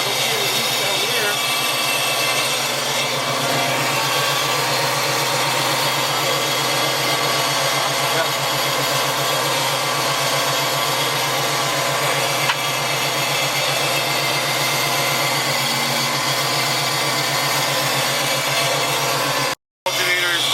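Cooling fans whir in the engine bay of a Coyote-swapped Fox body car, a loud steady whooshing hum close by with an engine droning underneath and talk over it, cutting out briefly near the end.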